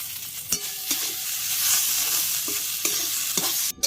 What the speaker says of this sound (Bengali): নিম পাতাটা আমি খুব সুন্দর করে ভেজে নিয়েছি